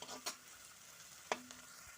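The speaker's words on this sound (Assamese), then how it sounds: "পিঁয়াজখিনি অকণমান ৰঙা হোৱালৈকে ভাজি লৈছোঁ।" Onions frying in hot oil in a wok give a faint, steady sizzle, with two brief spatula scrapes against the metal.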